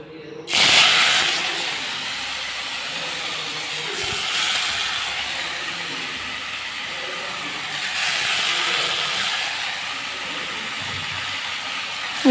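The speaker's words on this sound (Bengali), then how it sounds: "গরম তেলে শাকগুলো দেওয়ার পর সাথে সাথে শাক থেকে জল বেরোতে শুরু করে" Loud hissing sizzle of water spinach (kalmi greens) dropped into hot oil in a wok, starting with a burst as water leaves the greens and continuing as a steady spitting hiss that swells again midway.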